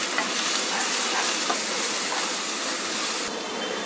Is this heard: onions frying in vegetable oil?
yes